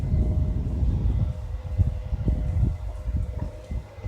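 A Cessna light airplane passes low overhead, just over 100 feet up across a street, a steady loud engine drone with rumbling low end and some wind buffeting, heard without talk.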